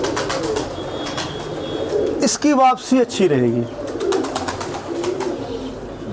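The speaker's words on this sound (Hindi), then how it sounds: "गोल गेड़े का कबूतर है" Pigeon cooing heard briefly amid other pigeon sounds, a tumbler pigeon bred to fly in circles, with someone speaking over the calls.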